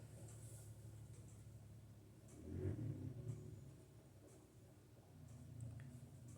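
A vehicle drives past outside a house, a low rumbling swell that builds and fades over a few seconds, distant and muffled indoors against steady background hum.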